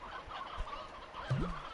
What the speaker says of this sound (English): I need to extract some of these roosters because they're just yeah, they're just multiplying a bit too quickly for my liking